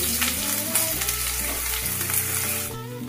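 Chopped onions frying in a pan, cooked for a restaurant-style lemon chicken, give off a steady, close, dense sizzle and crackle that holds at an even level throughout.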